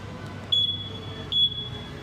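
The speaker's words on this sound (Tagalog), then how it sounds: "Yan yung alarm sir." A CF Moto SC 150 scooter's 2025 model alarm chirps twice: two short, bright electronic beeps a moment apart over a low background hum, with no talking.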